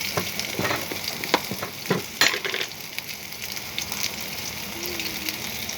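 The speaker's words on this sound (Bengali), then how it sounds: "আমি সয়াবিনটা ভাজবো, একটু হলুদ দিয়ে ভাজা করব" Soybean pieces fry with turmeric in a pan, a soft continuous sizzle punctuated by several quick stirring scrapes and knocks early on, then settling into a quieter crackle.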